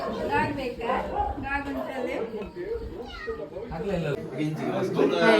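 A cat meows several times amid lively chatter from children and adults talking close by at a birthday celebration.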